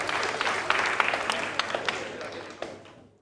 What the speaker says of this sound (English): A round of applause to Bambiland Montessori School.